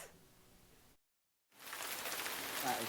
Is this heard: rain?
yes